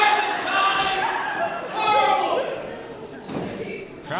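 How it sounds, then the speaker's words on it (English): Rowdy crowd at an indoor wrestling show, a broad wash of chatter and shouting with occasional thuds, fairly close and steady throughout. "Crowd getting a bit rowdy here."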